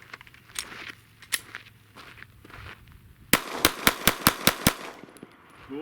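Sharp gunshots at an outdoor range, a quick string of about seven evenly spaced rounds emptying a seven-round magazine, preceded by a few scattered louder cracks and handling clatter.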